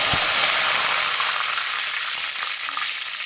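Mustard seeds and dried red chillies fry in hot oil for a Chidambaram brinjal gothsu, giving a loud, steady, close sizzle with faint crackles and no talk.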